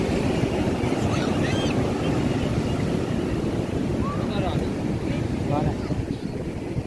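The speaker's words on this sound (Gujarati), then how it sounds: "દરિયાના મોજા ઉપરા ઉપર ચાલુ હોય" Sea waves roll in at Somnath Patan beach as a steady, loud, unbroken wash of surf under heavy wind buffeting the microphone.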